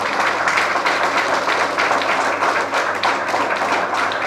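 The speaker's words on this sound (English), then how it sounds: "Please give a round of applause to this powerful lady." At a Tamil Chamber of Commerce gathering, an audience claps loudly and continuously, with individual hand claps standing out within the steady roar.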